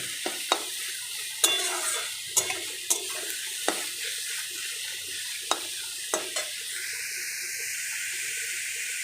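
Food fries in a pan with salt and turmeric, a steady close sizzle punctuated by sharp, irregular spatula taps and scrapes while it is stirred.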